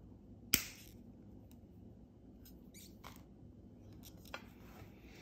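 A single sharp snip of pliers or cutters through thin jewelry wire while making a decorative pendant, close and crisp, followed by a few faint small clicks.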